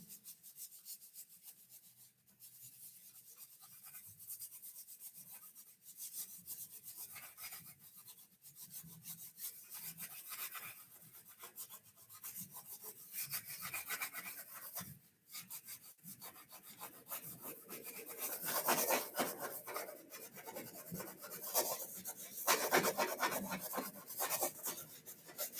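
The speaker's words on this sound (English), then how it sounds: "we're just going to Scotch-Brite this down" A Scotch-Brite pad rubs vertically along the fuselage of an E-flite A-10 Thunderbolt II model aircraft, a close, continuous dry scrubbing in repeated strokes that grows busier and louder in the second half.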